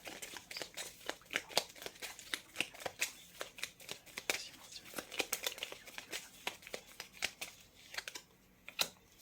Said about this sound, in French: je vais prendre une troisième carte